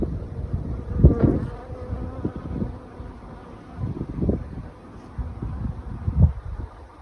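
Bees buzzing nearby on flowering mustard in swelling, fading passes, loud hums rising and dropping as insects fly close to the microphone, with light wind in the background.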